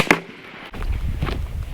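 A single sharp shot from an AEA Harpoon air rifle at an outdoor range, a loud close crack at the start followed by a low rumbling tail and background noise.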